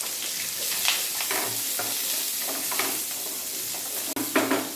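Chopped garlic, onion and capsicum fry in hot oil with a continuous sizzle. Soft stirring scrapes recur throughout, and one sharp knock comes near the end. No talking.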